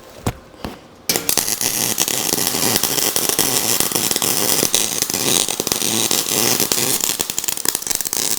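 MIG welding with a gap left between the nozzle tip and the wire, a steady loud crackling sizzle that begins abruptly after a brief quiet start and runs continuously with sputtering pops.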